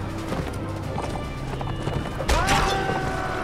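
Horse hooves clatter in the Mount & Blade Warband video game, a rapid galloping patter in the midst of a noisy battle, with a loud swelling burst near the end and someone talking over it.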